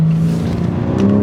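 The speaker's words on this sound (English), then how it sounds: "that exhaust setup, which is the AWE SWITCHPATH exhaust paired with the MAD downpipes, kind of sound like a injured cow" A BMW M4 G82 with an AWE Switchpath exhaust and downpipes drones loudly at a steady pitch, a close, continuous engine note that rises slightly toward the end.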